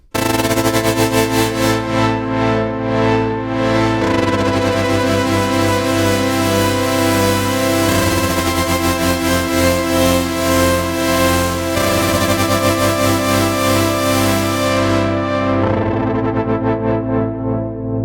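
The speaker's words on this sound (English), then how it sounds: "Synth Mysterious has a really cool LFO modulation going on and sounds like this." Mysterious preset on the Diva synthesizer, a sustained melodic techno pad with LFO modulation that makes chorus-like swirling and pulsing movement, playing loud and continuous for the whole stretch with no voices.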